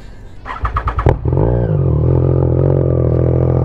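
A Triumph Trident 660 with a full exhaust cranks and fires with a few rapid rhythmic chugs, then settles into a loud, steady, throaty idle close to the microphone.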